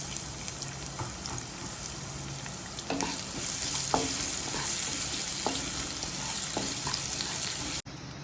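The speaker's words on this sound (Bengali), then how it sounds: "পেঁয়াজটা ভাজা ভাজা হয়ে গিয়েছে।" Chopped onion with ginger and garlic sizzling and frying steadily in a pan for an egg curry, with occasional stirring scrapes and clicks over a constant hiss, no talk.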